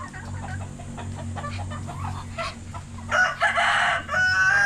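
Chickens cluck continuously nearby, then a rooster crows loudly near the end over the clucking flock.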